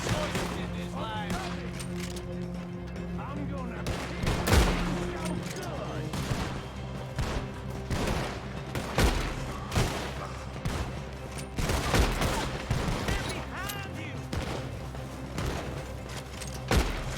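Rapid volleys of gunshots and booming shots ring out in a Red Dead Redemption 2 firefight, with sharp bursts recurring throughout and voices speaking over the shooting.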